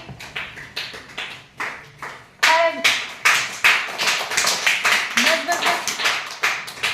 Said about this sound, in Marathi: छान टाळ्या वाजवर याच्यासाठी